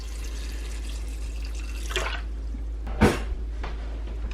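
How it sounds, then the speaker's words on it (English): Water splashes into a pot of overnight-soaked pinto beans in a kitchen: a couple of short, soft pours over a quiet background hum, with no talking. "To that, I'm just gonna add a little bit of water."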